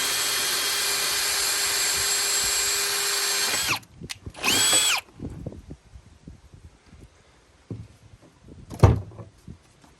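A power drill bores a pilot hole for a metal front grab bar on a Jeep TJ, a loud steady whine that winds down, a short second burst, then scattered clunks and handling noises.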